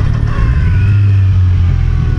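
2014 Kawasaki Z1000 Special Edition motorcycle on a test ride, its engine a loud, close, steady rumble with a slight rise in pitch under wind noise.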